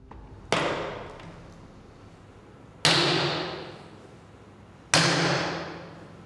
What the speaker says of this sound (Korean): 먼저 용접 망치로 실험했습니다.